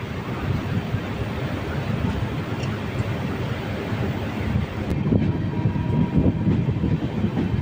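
The Sealdah Balurghat Express runs along the track, its steady rumble and rattle filling the carriage and growing louder and rougher in the last few seconds, with no talk.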